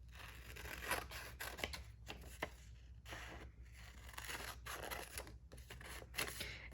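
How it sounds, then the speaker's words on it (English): Scissors snipping through printed paper to cut out a sticker, a faint, close series of quick crisp cuts and rustles with no voices. "we're gonna cut out Maynard here"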